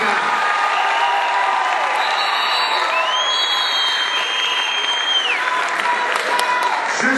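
Applause and cheering at a political rally in La Réunion, a dense sustained crowd roar with clapping and scattered whoops, while a voice talks over it.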